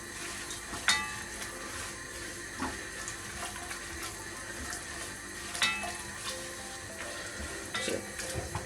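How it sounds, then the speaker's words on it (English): Butter and sugar melt in a pan with a little water, giving a soft continuous sizzle and bubbling, with occasional faint clinks and stirring taps close by. "So butter's melting."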